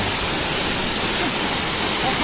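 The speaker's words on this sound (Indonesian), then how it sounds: "Oke, ini curugnya. Curug Karembong." Curug Karembong waterfall at Capolaga pouring fast and heavy, a steady loud broadband roar of rushing water filling the scene without pause.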